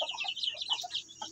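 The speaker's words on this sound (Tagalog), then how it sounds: "So ito yung mga sisiyo niyan guys." Two-month-old Asil chicks chirp in quick, high peeping bursts, close and fairly clear, with no talking.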